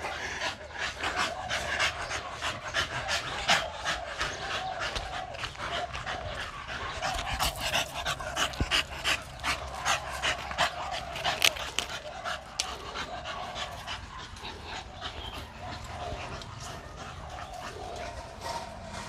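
A bully-breed dog pants rapidly and continuously during a game of fetch, close by, with occasional small whimpers and yips mixed into the rhythmic breathing.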